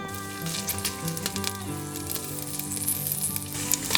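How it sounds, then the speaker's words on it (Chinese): Ginger slices frying slowly in a spoonful of lard over medium-low heat in a wok, a steady close sizzle with scattered crackles and pops throughout. "中小火慢慢的煎，直到我们闻到生姜的香味。"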